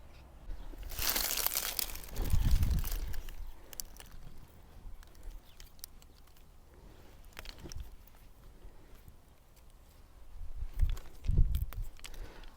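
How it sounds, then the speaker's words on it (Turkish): Grafting tape being peeled and unwound from a budded plant, giving close crinkly, crumpling rustles that swell loudly near the start and again toward the end, with quieter handling noises between. "Arkadaşlar bu aşı bantlarını çözüp daha sonra tekrar kullanabilirsiniz"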